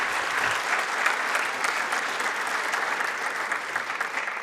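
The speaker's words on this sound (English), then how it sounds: "let's give another round of warm applause to Mrs." A conference audience at Church House Westminster applauds after a presentation, a brief, even burst of clapping heard close without speech.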